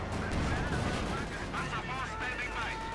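Battle gunfire from the Company of Heroes 2 game, with a 6-pounder gun, a Vickers and a Panzer IV, crackles and booms steadily under continuous commentary.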